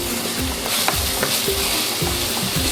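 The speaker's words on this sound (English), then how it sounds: "sweat these onions down" Onions sweating in a frying pan for a beef vindaloo, a steady soft sizzle with occasional stirring scrapes, close and continuous without any voices.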